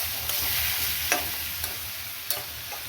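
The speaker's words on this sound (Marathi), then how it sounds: "म्हणजे मसाला आपला मस्त फ्राय झालेला आहे" Spiced masala for a potato and pea dish sizzles steadily in a pan, with a few sharp scrapes and knocks as a spoon stirs it; no talking.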